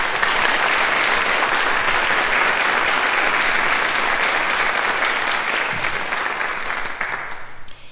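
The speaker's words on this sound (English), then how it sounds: "Please join me in a round of applause welcoming our Mayor Rhonda Pownell." A civic gathering audience gives the mayor a loud, sustained round of applause that holds steady for several seconds, then thins and fades near the end.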